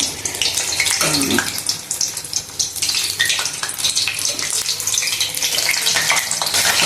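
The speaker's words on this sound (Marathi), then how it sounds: "आणि मिडियम गॅसवर चांगल्या प्रकारे फ्राय करून घ्यायची" Green chili bhaji (mirchi bhaje) in chickpea batter frying in hot oil over a medium gas flame, a steady, dense, close sizzle and crackle that runs throughout, with occasional soft turning sounds.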